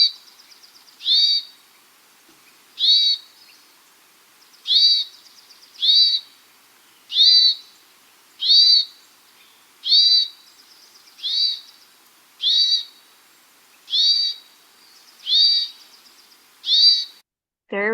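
A bird's call repeats about a dozen times, each a short buzzy burst at a steady rhythm with brief gaps between, clear and fairly close with a faint echo.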